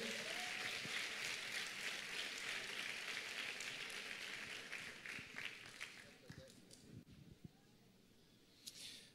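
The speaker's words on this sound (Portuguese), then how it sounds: "Você pode aplaudir a Deus pela vida dele?" Church congregation applauding during a conference, a broad wash of clapping that gradually thins and fades over several seconds, with voices mixed in.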